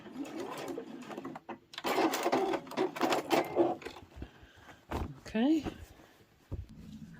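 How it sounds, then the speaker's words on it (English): A sewing machine backstitches at the end of a seam while making a tidy tray from layer cake quilting squares, short bursts of rapid stitching with pauses, close by, as someone talks in between. "Don't forget to backstitch when you get to the end."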